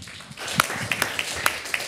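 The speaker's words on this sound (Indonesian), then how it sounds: "Tepuk tangan buat Tuhan." A church congregation at a morning prayer service applauds, a soft wash of scattered clapping with a few sharper, nearer claps and light ringing taps standing out irregularly.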